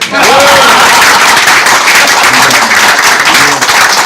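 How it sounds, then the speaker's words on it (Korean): Loud, sustained applause from a large audience at a political campaign gathering, steady clapping filling the whole stretch. "저도 좀 쉬게 박수 좀주세요"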